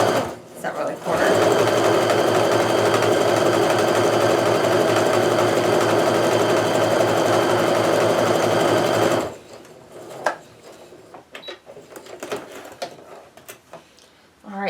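Sewing machine chain piecing fabric quilt triangles, a loud steady mechanical whir running unbroken for about eight seconds, then stopping to quiet handling clicks and rustles.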